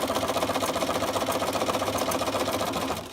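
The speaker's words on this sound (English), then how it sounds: "I'm going to sew all the way down" A sewing machine runs continuously at a steady fast rhythm while sewing a pleat, a loud close mechanical chatter that winds down and stops at the end.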